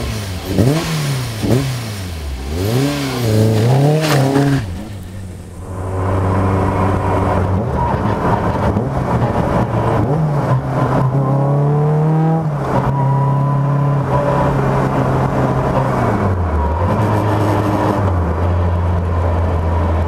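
A Caterham Seven 420R sports car engine revs repeatedly with rising and falling pitch, then drops to a rough, throbbing idle broken by further blips of the throttle. No talking.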